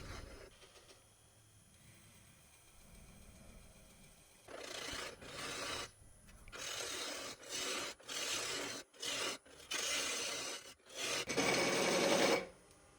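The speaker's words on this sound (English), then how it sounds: "I do turn a tenon on the bottom of the bowl, very small, short one for the small chuck" Lathe tool cutting a small, short tenon on the bottom of a very dry cherry burl bowl, bursts of raspy scraping in several separate passes with brief pauses between them, fairly close and growing louder near the end.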